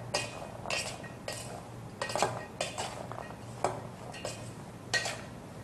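Spoon scraping and clinking against a bowl while chaat salad with lime is mixed, a series of irregular metallic taps and scrapes at close range with quiet pauses between.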